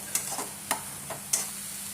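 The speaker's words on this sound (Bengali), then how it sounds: "এবার আমি যে মশলার পেস্টটা বানিয়েছিলাম সেটা দিয়ে দেবার পর এটা 2 মিনিটের মতো ভালো করে কষে নিতে হবে।" Spice paste for egg korma fries in a pan while being stirred, a soft steady sizzle broken by four light scraping ticks of the spoon.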